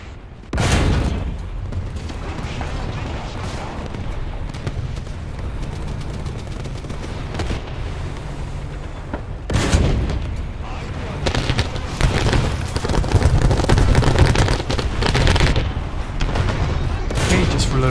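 Heavy booms rumble through a naval video game as bombs explode, with loud, sustained blasts and a strong burst near the start and another midway, over dense battle noise.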